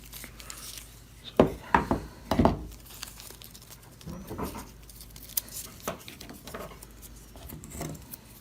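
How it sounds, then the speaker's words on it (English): Tape pulled and pressed onto a wooden instrument neck during peg box and neck assembly, with sharp crinkling rips and unspooling bursts, then softer scattered rubbing and crackles, close and quiet. "I'll tape it like this."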